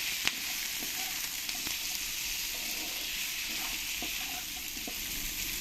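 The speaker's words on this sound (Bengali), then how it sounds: "ভালো করে মশলা আলু পেঁয়াজের সঙ্গে আমি মিশিয়ে নেবো" Potatoes and onions seasoned with salt and turmeric sizzle steadily in a hot pan while being stirred, with a continuous close frying hiss and occasional soft scrapes and taps of the spoon.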